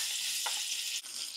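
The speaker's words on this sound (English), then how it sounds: "fry the spam." Spam frying in a pan in a home kitchen, a steady close hissing sizzle with a brief stir or scrape partway through and a short dip near the end.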